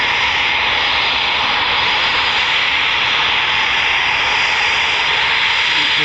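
Eurofighter Typhoon jet engine at RAF Coningsby, a loud, continuous roar with a bright, hissing upper edge that stays steady from start to finish.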